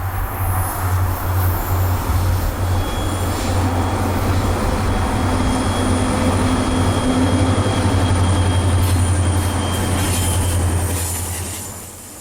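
An FEC freight train about 11,000 feet long, pulled by two SD40-2 locomotives on flat, straight track south of Miami, rolls past as a loud continuous rumble with wheel squeal. The sound eases off at the very end.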